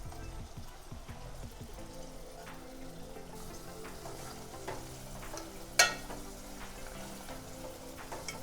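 Hand-pounded minced meat fries with browned onions in a pan, a steady soft sizzle with scattered stirring clatter and one sharp scrape, fairly quiet and close.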